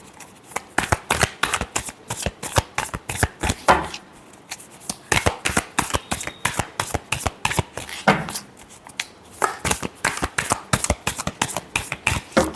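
Tarot cards are shuffled by hand in quick rhythmic riffles, a dense run of crisp papery flicks close to the listener, broken by a couple of brief pauses before resuming.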